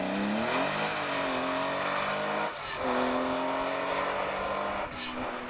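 A historic Porsche rally car drives at speed, its engine revving up through gears with brief lifts between shifts, steady and near throughout.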